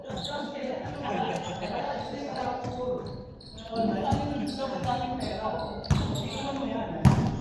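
Basketball bouncing on a court during a game, several sharp thuds spaced irregularly over crowd noise and people talking, with two louder bounces near the end.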